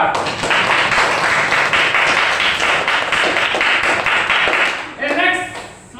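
A classroom of students in a university group-presentation session applauding for group 2, a steady burst of clapping lasting several seconds before fading as a voice starts to speak.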